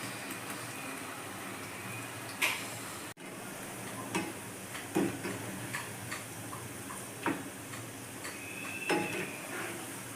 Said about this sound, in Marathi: तेल चांगलं गरम करून घेतलं आहे आणि तेलामध्ये आता मी हे बॉल्स सोडत आहे.